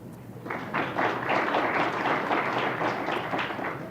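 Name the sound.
audience applause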